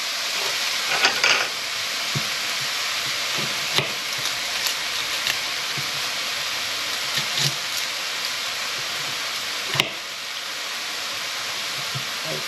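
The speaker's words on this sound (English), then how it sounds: "the sizzling's changed now, so you can hear the water coming out the mince" Minced beef and onions sizzle steadily in a frying pan, a continuous crackling hiss with occasional sharper pops and stirring clatters, close and alone without talk.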